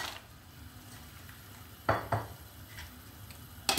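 Manti dumplings stirred in a pot of boiling salted water, a soft bubbling bed broken by a few sharp clinks and scrapes of the spoon against the pot.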